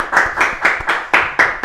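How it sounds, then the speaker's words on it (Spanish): Audience applause greets a speaker at a talk on social media and popular revolts, heard as a quick run of sharp, loud, distinct claps in an even rhythm, close up and with no voices. "lo recibimos con un fuerte aplauso"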